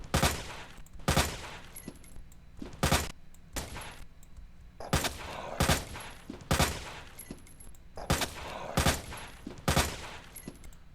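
Rapid gunfire from Resident Evil 2 Remake, sharp loud shots fired in quick bursts of two or three, repeating in a steady rhythm with brief metallic clinks between volleys.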